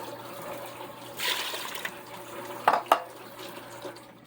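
Hot water pours from a bowl into an electric pressure cooker holding rice, a soft, steady close trickle and splash with a few louder sloshes near the end, over faint room hum.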